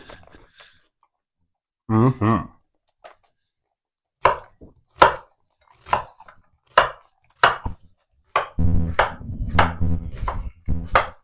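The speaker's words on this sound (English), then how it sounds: "while I'm chopping the shallot" A knife chops a shallot on a cutting board in a home kitchen, with sharp irregular taps that grow quicker and denser toward the end, close by, with people talking now and then.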